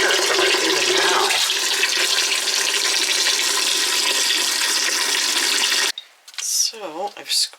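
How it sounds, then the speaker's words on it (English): Water runs and splashes steadily while homemade butter is squeezed out, then the flow stops abruptly and a voice is heard briefly over quiet. "So I've squeezed it out again, and there, you can see how the water gets more and more clear."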